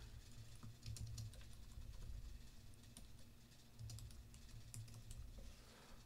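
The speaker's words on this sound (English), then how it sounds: "And then I'll just type a little note to myself." Soft, quick keystrokes patter on a computer keyboard as a short note is typed, faint and close, with no voices.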